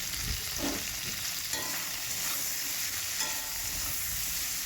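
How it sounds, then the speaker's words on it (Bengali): Drumsticks, beans and bitter gourd frying in oil with salt, a dense close sizzle running throughout with soft stirring scrapes underneath. "প্রথমে আমি সজনে ডাঁটা সিম আর করলাটাকে তেলের মধ্যে লবণ দিয়ে ভেজে নেব"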